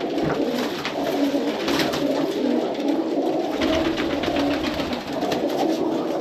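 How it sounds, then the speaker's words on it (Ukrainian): Pigeons of Iranian and Baku breeds coo steadily in a loft, a dense overlapping chorus of soft rolling calls close by, with a constant background hum and no talk. "Голуби миру."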